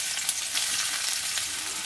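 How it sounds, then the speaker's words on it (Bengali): Chopped onions frying in hot oil in a wok, for potato filling for aloo chop, give off a loud, continuous sizzle with no talking. "তেলটা গরম হয়ে গেছে এবারে দিয়ে দিব পেঁয়াজ কুচি"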